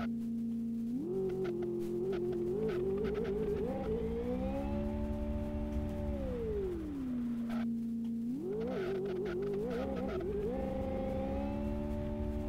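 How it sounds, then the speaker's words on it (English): A BMW Sauber F1.06 in Live for Speed, its engine screaming and wavering as the rear wheels spin, pitch climbing, dipping and surging again in a continuous loud whine with no talk. "There's a lot of wheel spin."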